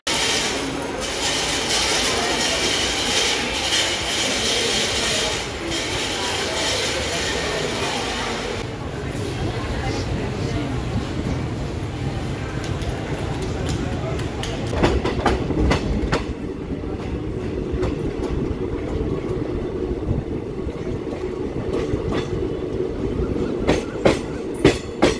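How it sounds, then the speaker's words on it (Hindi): The 12905 Okha Shalimar Express pulls out of Vadodara station, its wheels sounding a loud, rhythmic clickety-clack that grows sharper and faster over the rails, with voices audible beneath. "और फाइनली हमारे ट्रेन का डिपार्चर हो गया है।"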